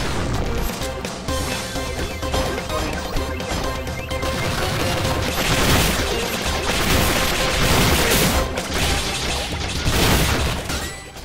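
Dense video game gunfire crackles in rapid bursts, mixed with crashes and booms in a loud, busy action sequence that runs without pause.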